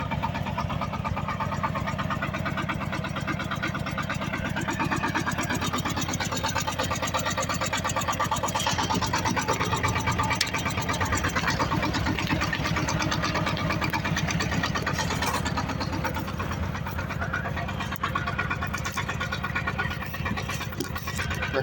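A tractor engine runs steadily and close while a reworked hydraulic hitch lifts a load, a continuous mid-pitched chugging drone with slight shifts in strain partway through, and no one speaking.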